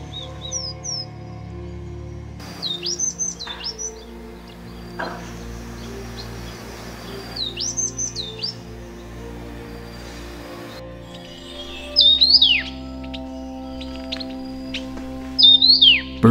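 Birds chirp and call in Taroko forest in winter, clear sweeping whistles in short bursts repeating every few seconds over a low steady background hum, fairly close, no voices.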